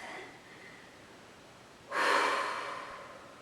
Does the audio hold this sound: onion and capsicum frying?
no